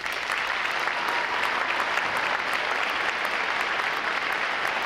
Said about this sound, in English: please join me in a round of applause for all that they have done